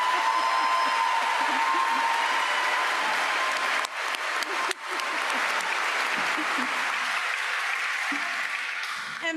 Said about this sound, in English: someone clapped for the faculty